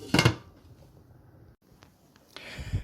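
A pot lid set down on a cooking pot of mussels over medium heat: a brief near clatter of metal at the start, quiet kitchen hiss, then a second clanking contact near the end.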